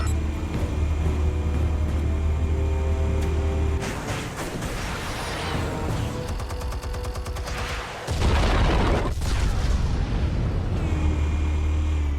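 Explosive detonations and gunfire-like bursts in the Batman: The Telltale Series video game, dense, loud and sustained, with a heavy rumbling blast near the middle over a continuous low drone.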